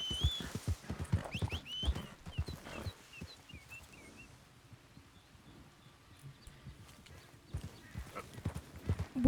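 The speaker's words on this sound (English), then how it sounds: "I'm gonna go ahead and make this my main horse" Horse hooves clip-clopping in Red Dead Redemption 2 as a whistled horse arrives, a run of close, fairly loud footfalls at the start that fades, then returns near the end.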